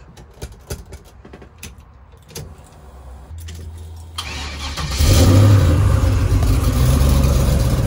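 A 1971 Chevrolet Chevelle with cutouts, a 60E transmission and a 6-0 coil. Keys jangle, then the engine cranks and catches near the middle of the clip, and after that it roars loudly and steadily as it idles and revs close by.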